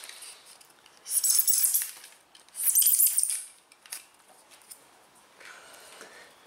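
Craft blade cutting at an angle into wargame lava table terrain and flicking chunks out, heard as two bursts of close, crisp scraping and crackling with quieter small ticks and rustles between.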